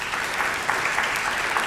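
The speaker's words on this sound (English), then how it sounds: "Please join me for a round of applause for our sponsors and for the students" A lecture audience gives a round of dense, steady applause for sponsors and students, loud and continuous with no voices over it.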